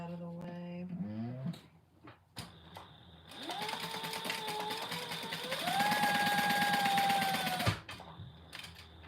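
Sewing machine stitching the folded-down pieces of a compact clutch, a fast steady run of needle strokes lasting several seconds, preceded by brief handling clatter and ending abruptly.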